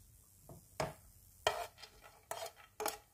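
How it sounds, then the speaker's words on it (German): Small dry bread cubes rattle and scrape in a dry pan as they roast, a handful of sharp clatters and rustles spaced irregularly, close and fairly quiet, with no talking. "Einfach nur so trocken in der Pfanne einmal anrösten"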